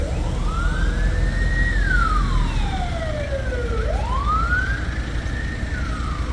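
An emergency vehicle siren passing along a street wails in long rising and falling sweeps, loud and close, steady over traffic rumble for the whole stretch.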